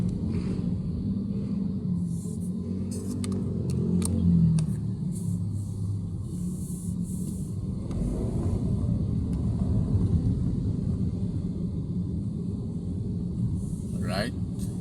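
Heavy traffic on EDSA heard from inside a Land Cruiser: a steady low engine and road rumble throughout, with a few faint higher clicks and a brief whine near the end, under a voice talking.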